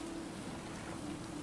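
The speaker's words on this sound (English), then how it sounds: "Raining, boys." Steady rain in the survival video game Stranded Deep, a soft continuous hiss of falling water with a faint low hum underneath, no voices.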